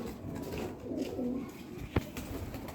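Soft pigeon coos close by, a couple of low murmuring calls, then a sharp tap.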